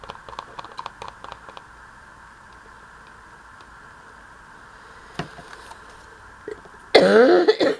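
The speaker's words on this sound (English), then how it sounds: "Sorry about my cough." A single sharp, loud cough bursts out close by near the end, after a stretch of quiet room tone with light ticking and tapping at a crafting table.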